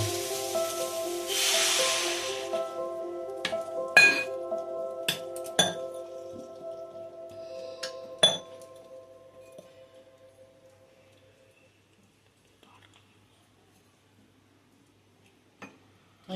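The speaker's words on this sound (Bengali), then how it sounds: "আমি জল দিয়ে দিলাম, দিয়ে এবারে আমি চাপা দিয়ে দিলাম।" A lid is set over a pot of boiling vegetables for a Mohura offering, clinking several times in sharp metallic taps over a low simmering hiss that fades toward silence, with one last clink at the end.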